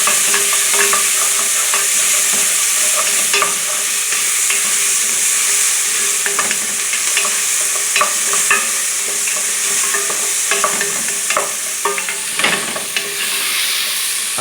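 Garlic cooking in a hot pan, a loud, steady close sizzle with occasional pops and scraping stirs throughout.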